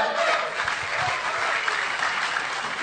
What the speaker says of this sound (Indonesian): Dokter Andri, tepuk tangan untuk beliau.